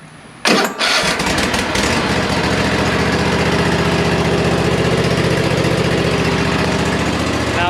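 A Husqvarna lawn mower with a 23 HP Kohler Confidant engine cranks briefly and catches, then settles into a steady, loud, close running drone with no talking.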